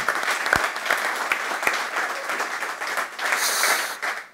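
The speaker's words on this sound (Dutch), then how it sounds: "Uw applaus voor Wim Jansen" Audience applause for a retired footballer being called up on stage at a Dutch sports-and-business event, steady dense clapping from a large crowd that swells louder toward the end.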